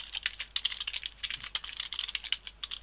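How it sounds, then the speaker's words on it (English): Rapid, close keystrokes on a computer keyboard, an uninterrupted run of crisp taps and clicks with no voices over them. "So I'll just type it here so we know."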